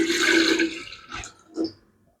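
Roughly two to two and a half glasses of water splash into a cooking pot for beef bhuna, a close, gushing pour followed by a few smaller splashes as it tapers off.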